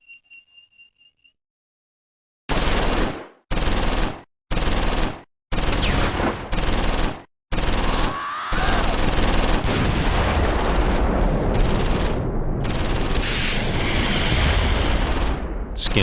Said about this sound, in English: Skinner on the bazooka scores a hit.